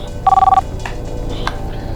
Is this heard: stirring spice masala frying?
no